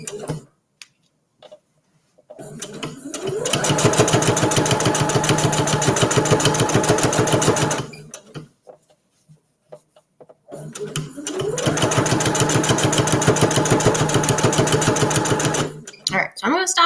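Sewing machine stitching quilt binding on a Christmas tree table runner with a serpentine, zigzag or other decorative stitch: two long bursts of fast, steady mechanical whirring and ticking, close and loud, separated by short pauses with small clicks.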